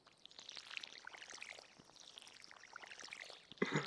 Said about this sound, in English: Okay, now we gotta water these beauties.